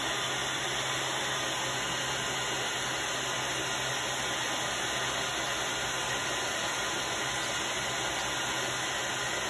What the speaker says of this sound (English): So I'm just gonna take a hair dryer and I'm gonna do a quick little heat set on this.